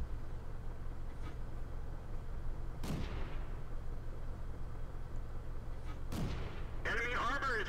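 Tank cannon shots in the World of Tanks video game: two sharp booming reports a few seconds apart, each with a decaying tail, over a steady low engine hum, followed by a brief radio-like burst at the end.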